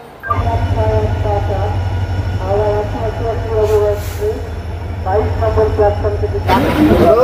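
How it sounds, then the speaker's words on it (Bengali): A night express train pulls out from platform 22 at Howrah station, a loud steady low rumble with rhythmic clatter and a faint squeal, while voices talk over it now and then. "হাওড়া স্টেশনের 22 নম্বর প্ল্যাটফর্ম থেকে আমাদের ট্রেন ক্রিয়া যোগা এক্সপ্রেস ছেড়ে দিল"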